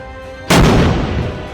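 A Bofors artillery gun of the Indian Army fires a single loud, close boom with a sharp onset and a rumbling decay that fills the rest of the moment.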